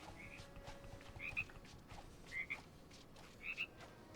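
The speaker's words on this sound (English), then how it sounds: "Oh, there's a frog in there." Three croaks from a frog in the video game Disney Dreamlight Valley, evenly spaced and fairly quiet over a soft ambient background with no speech.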